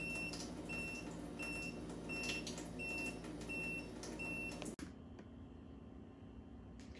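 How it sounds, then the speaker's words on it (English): A Waterdrop reverse osmosis water filter unit under a kitchen sink beeps repeatedly in a steady, evenly spaced pattern over a low hum. The beeping cuts off abruptly, leaving a quieter background. "Unit is beeping, as you can hear."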